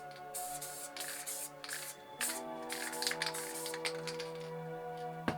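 A can of Dope Supreme spray paint hisses through its nozzle in a series of uneven bursts, some spitting and crackling, close up over a tonal background hum, with no talking.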